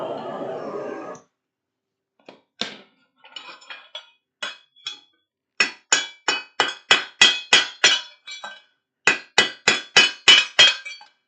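A blacksmith hammers metal on an anvil in a rhythmic run of sharp ringing strikes, some isolated and then a steady quick series, loud and close, after a short burst of fire roar at the start.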